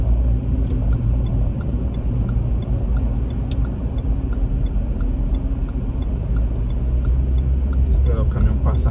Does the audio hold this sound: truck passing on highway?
yes